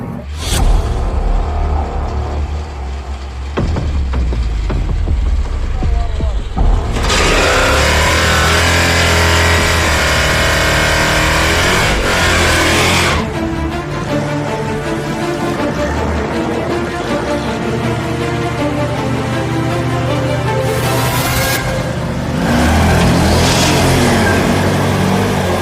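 1975 AMC Gremlin with a V8 engine accelerating hard, a loud sustained roar that rises and shifts through gears over about twenty-five seconds, heard close from the car with little talk.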